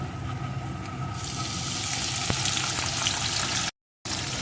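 Chopped tomato goes into a pan of fried potatoes for a cabbage dish, and a loud, steady sizzle and crackle of frying fills the clip. The sound cuts out briefly near the end, then returns.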